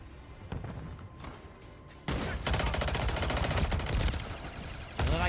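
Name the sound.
gunfire in a video game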